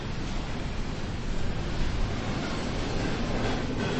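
Trains keep running past a large construction site in Paris where slabs are being built over active railway tracks, giving a steady, loud rumbling roar with no distinct breaks.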